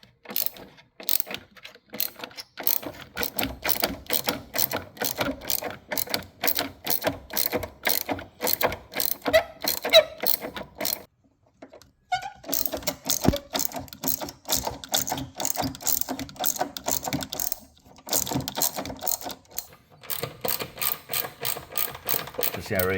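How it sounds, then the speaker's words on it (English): A hand ratchet loosens screws inside the battery compartment of a 2010–2013 Kia Soul, clicking in long rapid runs close by, with a short pause midway before the clicking resumes. "I'm gonna remove those two screws."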